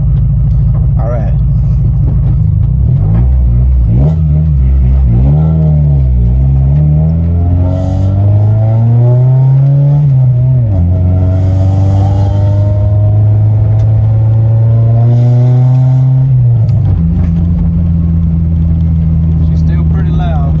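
A car engine fitted with an adjustable high-flow catalytic converter revs loudly and close, rising and falling through several sustained pulls with a deep exhaust rumble, and people talk briefly over it.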